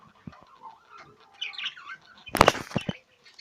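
Jumbo budgerigar parakeets chirping softly through most of the stretch, followed near the end by a louder burst of close squawks and wing flaps.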